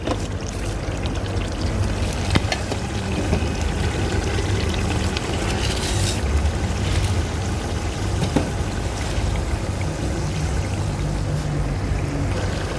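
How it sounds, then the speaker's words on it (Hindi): Half a glass of water goes into frying masala in a pot while cooking chicken haleem, giving a steady, loud hissing pour and sizzle that runs without a break and has no talking. "आधा गिलास डालेंगे इसमें पानी का और पानी डालकर इसको मज़ीद हम 20 से 25 मिनट तक अच्छी तरह भूनेंगे"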